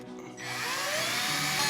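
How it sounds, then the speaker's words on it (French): A power drill bores small holes into the wood of a guitar kit, its motor whining up and then holding a steady, loud grinding tone for under two seconds, close and alone. "C'est maintenant que tu vas percer tes 2 petits trous. Donc tu tiens ta perceuse bien perpendiculaire et tu pousses sur la perceuse."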